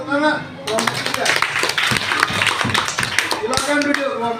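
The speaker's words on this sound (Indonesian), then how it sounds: "Kita kasih tepuk tangan kelompok 3." Classroom of students clapping for a group, sharp close claps breaking out after a short pause, with voices talking over the start and end.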